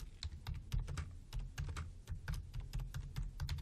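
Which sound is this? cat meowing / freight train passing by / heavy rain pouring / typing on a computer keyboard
typing on a computer keyboard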